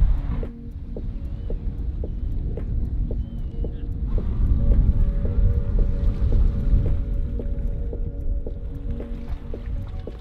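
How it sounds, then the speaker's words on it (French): Large cruise ship passing close by a waterside campsite, a steady low rumble with wind noise and faint tonal music-like notes drifting over it, no talking. "Les bateaux de croisière, ils passent vraiment devant notre emplacement de camping."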